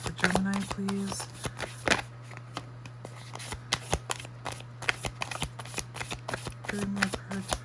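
Tarot cards shuffled by hand in quick, crisp riffles and slaps, close and fairly soft, with a few voice sounds at the start and end and a steady low hum underneath.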